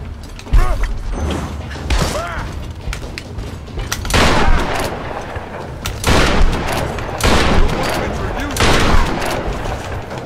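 Shotgun blasts go off in a Tomb Raider video game, several loud booming shots at irregular intervals mixed with clanking mechanical rattles and creaks, with voices at times.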